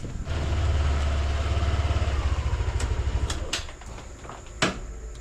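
Motorcycle engine idling close by, a steady pulsing putter that fades after a few seconds as the bike is pushed indoors, followed by a few sharp knocks.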